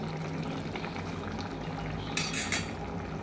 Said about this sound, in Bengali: এই যে 1 চামচ ঘি অ্যাড করে দিলাম